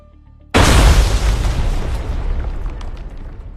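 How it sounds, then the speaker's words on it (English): A sudden loud explosion bursts after a moment of quiet, its deep rumbling roar slowly fading over the following seconds. "At that very moment, there was an explosion."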